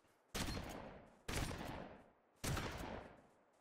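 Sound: gunshots in video game Project Winter

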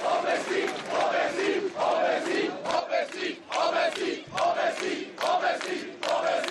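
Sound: crowd shouting at a demonstration march

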